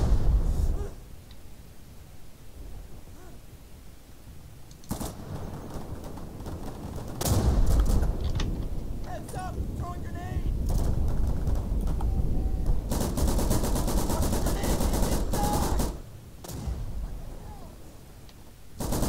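Suppressing gunfire in a Day of Infamy multiplayer battle: loud, rapid bursts of automatic fire, sustained in long stretches and then pausing, close and harsh over background game noise.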